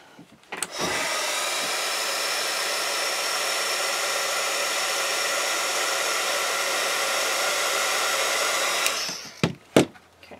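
Hair dryer blowing continuously for about eight seconds to dry watercolor paint on a palette, loud and close, clicking on at the start and off near the end, followed by a few handling knocks.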